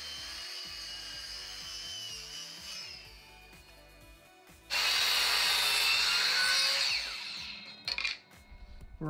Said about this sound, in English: Let's cut one of the edges of your newly created board to a 45 degree angle.